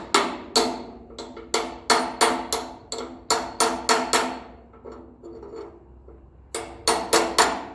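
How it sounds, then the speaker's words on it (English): Hammer driving a metal seal onto the axle of a Massey Ferguson 35 tractor, a run of close, evenly spaced sharp metallic blows with ringing decay, a brief softer lull, then another quick burst of strikes. "You'll hear the metallic ring out of it. That's the metal of the seal hitting the axle."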